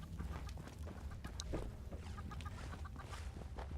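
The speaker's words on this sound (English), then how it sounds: "They have a chicken locked in a cage." A caged chicken in Fallout 76 clucks repeatedly in short, irregular calls over a steady low rumble of game ambience, with no talking.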